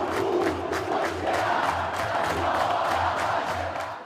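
Vasco da Gama supporters chant in a dense, rhythmic roar, a large stadium crowd singing together with pulsing beats, loud and sustained before fading slightly at the end.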